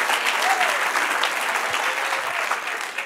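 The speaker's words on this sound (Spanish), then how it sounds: "Dale otro aplauso, Señor." Steady applause from a church congregation fills the space, a dense continuous wash of clapping with no break throughout.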